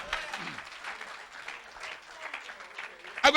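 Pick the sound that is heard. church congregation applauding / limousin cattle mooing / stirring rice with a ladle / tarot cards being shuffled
church congregation applauding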